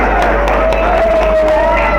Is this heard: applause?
yes